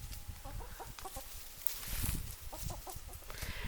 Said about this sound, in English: Now all of these chickens are hens, which means that they all lay eggs.